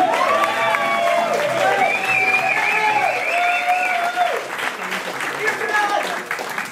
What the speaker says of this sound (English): I didn't get that kind of, I didn't get that kind of applause.